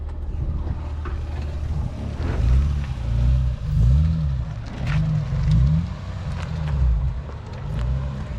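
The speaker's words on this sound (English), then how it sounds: "So this is just a clutch dump right here." A 6-speed manual car launches hard after a clutch dump, its engine note repeatedly climbing and dropping through several surges, backed by wind buffeting at the microphone.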